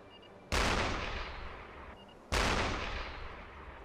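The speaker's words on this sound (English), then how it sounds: "you need to quickly jump on the gun, put some holes in these things, and sink them" A submarine deck gun firing at ships in the UBOAT video game: two heavy booms about two seconds apart, each a sharp blast that fades into a long rumbling tail, with no voices.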